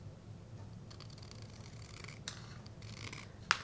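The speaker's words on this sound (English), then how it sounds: "I just grabbed a pair of scissors because it was fast." Quiet scissors snip through paper in a few short, faint cuts, ending with a sharp little click.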